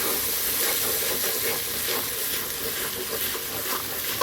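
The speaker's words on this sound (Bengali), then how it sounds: "তো মশলাটা ভালোভাবে কষিয়ে নেব।" Spice paste of ginger-garlic, turmeric, chilli and salt fries in a pan with a steady, close hiss and sizzle that continues without a break.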